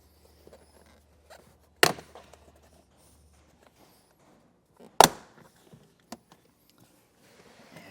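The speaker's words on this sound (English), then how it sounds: "we'll want to pry up on our little trim panel here" Two sharp plastic snaps as a vehicle trim panel is pried up in a 2025 pickup cab, each a loud isolated crack followed by faint rattling handling noises, with quiet gaps between.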